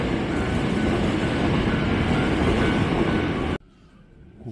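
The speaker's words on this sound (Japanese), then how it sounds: "京都河原町の急行電車がですね、今通過しております。" A Hankyu express train bound for Kyoto-Kawaramachi roars past near Awaji station, a loud, close, continuous rumble of wheels and cars that cuts off abruptly, leaving a quiet background.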